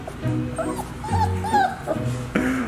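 Month-old Labrador puppies whimper and yip in short, high, wavering cries several times in a row, close by, with a person talking to them softly underneath.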